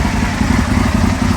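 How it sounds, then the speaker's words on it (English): An Aprilia motorcycle engine at operating temperature ticks over at idle, a steady, close, loud mechanical chug with a fast even beat and faint clatter. "we're at temperature, we're ticking over"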